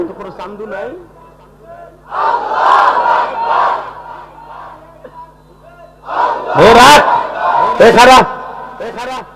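A crowd at a religious sermon roars takbir in loud unison bursts, two big swells separated by a preacher's voice speaking in between.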